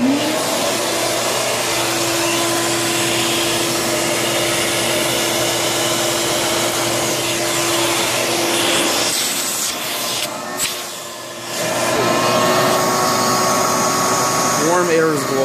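A Shop-Vac wet/dry portable vacuum running with a loud steady whining motor and rushing airflow, briefly dipping and shifting in pitch midway before resuming, with a person talking over it.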